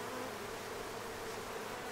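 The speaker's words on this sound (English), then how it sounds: "there's probably enough bees in here" Bees in a beehive give a steady, dense, continuous buzz, close and even throughout with no talking.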